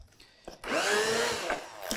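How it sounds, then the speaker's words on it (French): A blender whirs up suddenly and runs steadily for over a second as it purées strawberries for a sorbet, its motor pitch wavering slightly before it cuts out near a faint clatter. "pour mixer ces fraises, on peut utiliser un mixeur plongeant, on peut utiliser un blender également"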